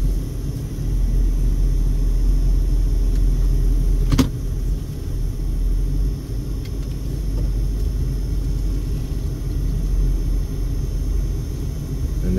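Car interior rumble while driving along Scenic Loop Drive at Red Rock, a steady low road and engine drone with a single sharp click partway through, no talking.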